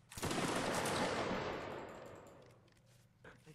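A massed musket line volley in a Napoleonic Wars battle game cracks out as one loud, dense burst, then rolls away into a long fading rumble with a few scattered shots near the end.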